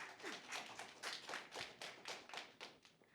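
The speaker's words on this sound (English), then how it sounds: "Round of applause." A debate audience gives scattered, fairly faint applause: a dozen or so separate claps in an uneven rhythm, with no voices.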